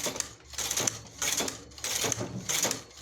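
A hand-operated knitting machine works sweater lace stitches, its carriage rattling and clicking across the needle bed in repeated passes with brief pauses between strokes, close and fairly loud.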